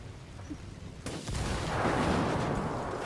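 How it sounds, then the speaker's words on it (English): A semi-automatic sniper rifle firing into a vehicle's front grille and engine block in Ghost Recon Wildlands, a sudden heavy shot followed by a sustained booming rumble that fills the rest of the moment. "Shooting it in the direct center of the grille, right through the engine block"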